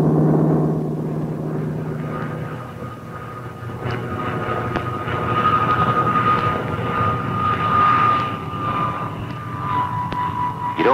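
A Grumman F6F Hellcat fighter plane's piston engine drones loudly and steadily, with some rising tonal whine, from 1944 wartime footage.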